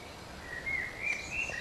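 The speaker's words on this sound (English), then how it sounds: "Birds are lovely, you can hear them singing in all the trees." Birds sing in trees along a residential lane leading down toward a park, thin, high chirping phrases rising over soft background hum, moderately close.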